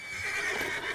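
A horse in Red Dead Redemption 2 gives one loud, close whinny that lasts about a second, with a faint clip-clop of hooves beneath it and no voices.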